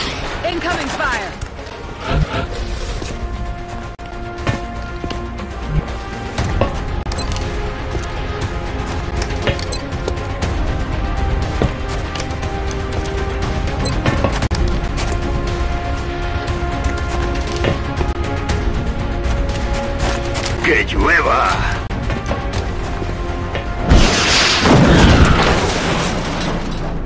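Gunfire and explosions in the XCOM: Enemy Unknown video game, with scattered booms and sharp bursts over a tense game soundtrack, punctuated by a louder blast near the end, while voices talk throughout.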